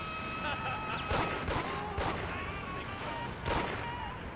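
An enemy fires a gun in the PS2 game Mafia, several sharp, spaced shots cracking out over a steady background of engine hum and game noise, with a voice talking underneath.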